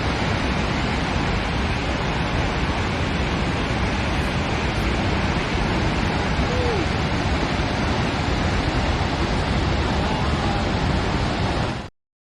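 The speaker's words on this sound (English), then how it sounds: "You got that footage of the waterfall there? We went to see the Twin Peaks waterfall." Snoqualmie Falls, the massive waterfall seen in Twin Peaks, roars as a loud, steady broadband rush that fills the scene without a break, then cuts off abruptly at the end.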